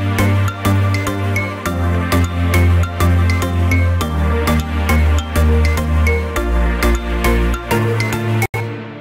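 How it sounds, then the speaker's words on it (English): An instrumental remix track plays with the vocals removed: dense layered music with a steady beat and thick low bass, loud and continuous, cutting out briefly near the end. "If you just listen to the music in solo, it sounds like this."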